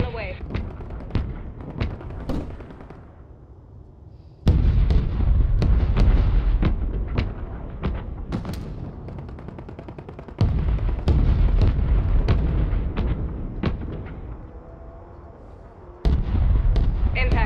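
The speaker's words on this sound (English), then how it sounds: "Mortar strike on the way." Rapid mortar strike explosions in a battle royale video game, a series of loud booming blasts that land in three heavy waves, each starting abruptly and then trailing off into rumbling, crackling impacts.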